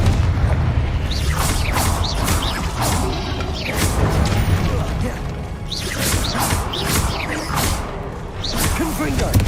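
Fire spell blasts cast in Hogwarts Legacy combat burst with booming whooshes and crashes, several in quick succession over busy battle noise, with a voice speaking at times.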